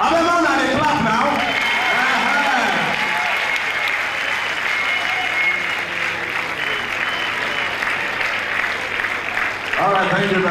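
Dense, steady audience applause fills a hall at a 2016 International Widows Day celebration, loud and sustained for about ten seconds, with a voice talking over the start and returning near the end.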